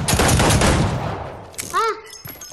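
A rapid burst of video game gunfire in a playground-set shooter rattles loudly at first, then fades, followed by a short exclaimed voice.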